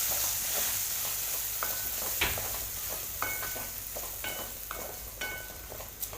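Potatoes fry in a pan over a medium flame, giving a constant soft sizzle broken by a run of light scraping stirs and clinks from a spatula against the pan.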